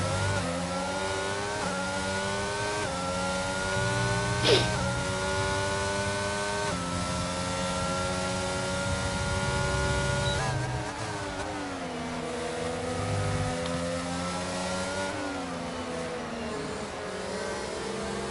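Race cars sweep through a sequence of corners in a racing game set at Britain, engine notes climbing and dropping in steady, overlapping waves of acceleration and downshifts, continuous and moderately loud.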